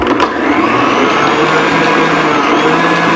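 A KitchenAid food processor attachment on a stand mixer running steadily, a loud, even motor whir and hum throughout with a brief clatter at the start.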